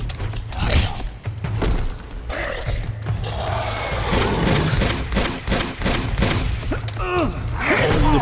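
Rapid pistol gunfire in Uncharted 2, a dense run of loud sharp shots with impacts and debris crashing, some in quick bursts, over a chaotic battle din.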